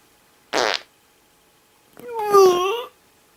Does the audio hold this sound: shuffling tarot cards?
no